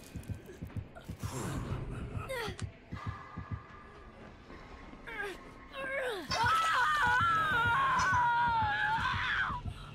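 A shrill, wavering monster scream in a video game, loud and sustained for several seconds near the end, preceded by shorter cries and growls with game sounds underneath.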